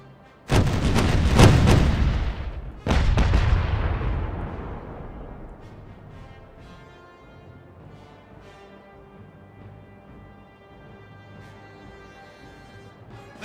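Two heavy cannon volleys from a ship's starboard broadside in the pirate game Caribbean Legend: Age of Pirates, each a loud booming blast followed by a long rumbling decay that fades into quiet ambience.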